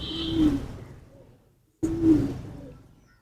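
Ferozpuri pigeons give two drawn-out, throaty coos close by, separated by a short silence.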